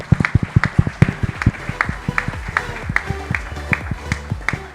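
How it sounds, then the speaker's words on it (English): Audience at a financial conference in India claps in a round of applause, a steady patter of many hands with sharp irregular peaks, heard alone without talk. "can we please give a round of applause in his memory?"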